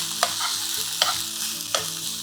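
Chicken spring roll filling is stir-fried with hot and sweet sauce, giving a loud, dense sizzle with three sharp spatula scrapes against the pan.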